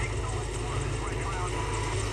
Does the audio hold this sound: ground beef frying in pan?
no